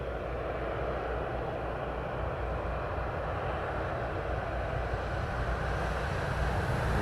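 A jet aircraft taxis at East Midlands Airport with a steady, loud broadband engine roar that holds evenly throughout, no voices over it.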